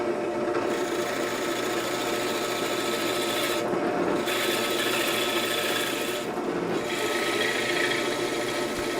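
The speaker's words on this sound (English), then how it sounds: "Here's the third hole for the other guide rod being bored." A drill press bores holes through clamped wood for woodworking vise guide rods, a loud steady grinding whir with a rasping cut that pauses briefly twice.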